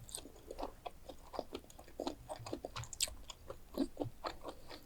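Close, quiet chewing of enoki mushroom pancakes, with soft rhythmic crunchy bites and mouth sounds repeating steadily and no talking.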